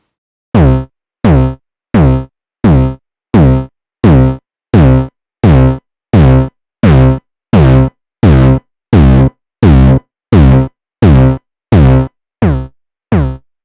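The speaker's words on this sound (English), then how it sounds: "If you want this kick drum to sound really fat and distorted, you can always use a guitar pedal such as this OCD full tone pedal" Moog Matriarch synth kick drum run through a Fulltone OCD guitar distortion pedal, about nineteen fat, loud, distorted thumps in a steady even pulse, each cut off short, with silence between hits and no talking.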